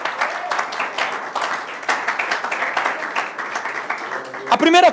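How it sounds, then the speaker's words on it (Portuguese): A church congregation applauds during a sermon, a continuous wash of clapping mixed with voices and cheering, ending with a brief louder sound. "Vamos aplaudir o nosso Deus por isso."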